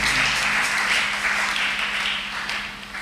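A church congregation applauds in acclaim of God, a steady wash of many hands clapping at once, fairly loud and continuous, fading slightly toward the end.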